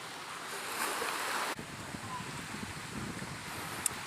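Wind and surf on a small beach in Moorea, a steady rushing roar buffeting the microphone, with a sharp drop in level partway through and continuous wash of waves after.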